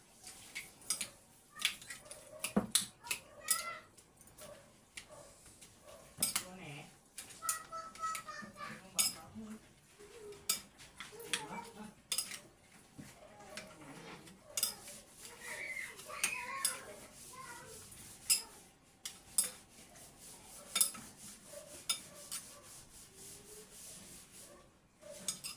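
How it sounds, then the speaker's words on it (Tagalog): A utensil stirs kinilaw, raw fish in a bowl, producing soft scraping and light clinks against the dish. The strokes are irregular and fairly quiet, with occasional voices in the background. "Ngayon guys, haluin natin."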